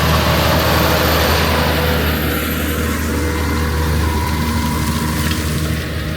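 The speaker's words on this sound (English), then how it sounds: "I can't really believe how quiet this tractor is." A Fendt 1167 Vario MT tractor working a soybean stubble field, its engine a loud, steady, deep rumble with a constant low drone and broad noise of rolling across the ground, continuous with no talk.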